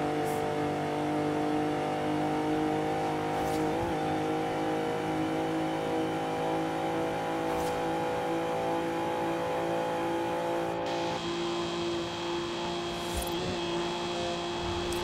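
A stock 1962 Ferrari in Forza Horizon 5, heard from inside the cabin: a steady, loud engine drone with layered harmonic tones that holds throughout, with a brief shift in pitch near the end.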